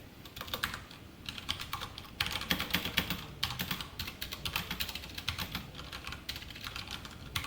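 Rapid typing of C code on a computer keyboard, a steady stream of close, crisp key clicks with irregular rhythm and occasional louder taps, with no talk.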